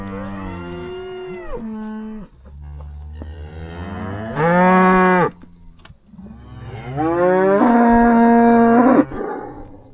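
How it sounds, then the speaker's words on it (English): Cattle moo repeatedly at close range beside a fence, several long, loud bellowing calls overlapping from more than one animal. "Cows are behind me here wanting to go in."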